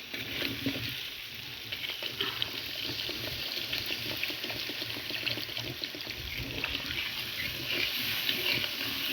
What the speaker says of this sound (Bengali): দিয়ে দিচ্ছি পরিমাণ মতন জল।